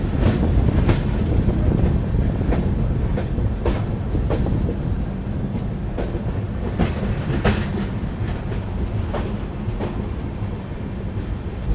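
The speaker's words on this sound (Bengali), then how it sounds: "ফাইনালি গয়া থেকে ট্রেন ছেড়ে বেরিয়ে যাচ্ছে" A train departing Gaya station rolls steadily along the rails with a rhythmic clickety-clack of wheels over joints and a constant low rumble, no voices.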